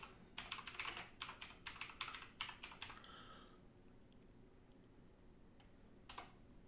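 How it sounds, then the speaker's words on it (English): Rapid typing on a computer keyboard, a dense run of quick key clicks in uneven bursts for about three seconds, then a quiet room with one last faint tap; close and alone, no talking. "I'm just typing names in"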